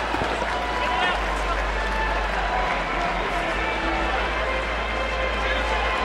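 Crowd noise inside a large boxing arena, a constant murmur and rumble of many spectators with scattered clapping, steady throughout, as a voice talks over it.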